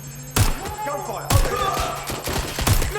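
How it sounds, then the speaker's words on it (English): Bursts of gunfire in the Watch Dogs: Legion video game, with sharp loud reports around 0.4, 1.3 and 2.7 seconds over a steady rumbling game backdrop and scattered smaller impacts. "Gunfire!"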